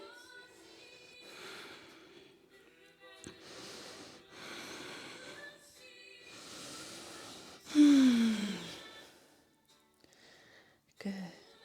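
Slow, audible breaths in and out during a yoga flow, several long exhales spaced a few seconds apart, with one deeper forceful exhale near the end, close and quiet.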